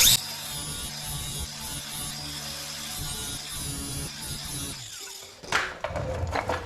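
A handheld grinder works on a Jeep JKU axle yoke during a U-joint job, giving a buzzing, whining grind that holds steady for several seconds, fades, and then gives way to clattering handling noise.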